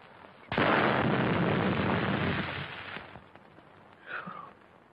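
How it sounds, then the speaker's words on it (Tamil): A crude country-made bomb blasts in a Tamil action film scene, a sudden loud burst followed by a long roaring, crackling decay over several seconds, then a brief faint tonal squeal near the end. "வெறும் நாட்டு வெடிக்குண்டா இருக்கு."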